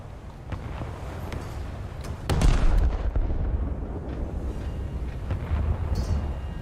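Naval guns firing high-explosive shells in a casual naval battle game with a Kongo battleship, a loud heavy boom rising over steady engine and sea rumble, followed by a sustained low roar.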